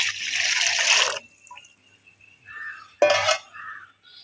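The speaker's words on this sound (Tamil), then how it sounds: "மூணு டம்ளர் தண்ணி அதை இதில் ஊற்றி சேர்க்கும்" Three tumblers of water are poured into a wide kadai for murungai poo halwa, a loud splashing gush of about a second, then a brief second splash after a quiet pause.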